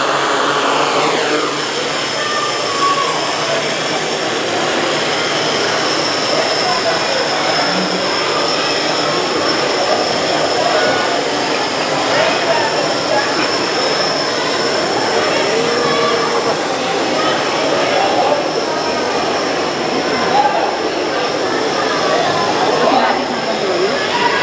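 A homemade drone built by a Class 10 student spins up and flies, giving a steady loud whirring drone that holds evenly throughout, close and continuous.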